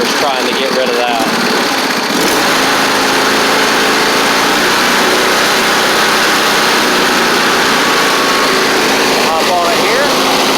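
A John Deere garden tractor's V-twin engine runs steadily and loudly close by, a continuous mower-like drone with a voice talking over it.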